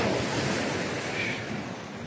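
Sea waves and gusty wind at Frenchman's Bay Marina in Pickering, Ontario, forming a dense, close, steady wash of surf noise with wind buffeting the microphone.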